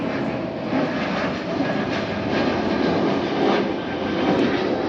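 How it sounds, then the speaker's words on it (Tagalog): A propeller or jet airplane passes overhead above a home yard with aloe plants in the Philippines, its broadband engine roar steady and fairly loud throughout, swelling slightly as it crosses, with no talking. "Daanan kasi ito na aeroplano."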